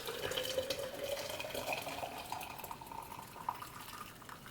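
Ginger and lemon drink poured from a container in a home kitchen, a soft continuous trickling splash with a faint ringing tone, fairly quiet and unbroken throughout.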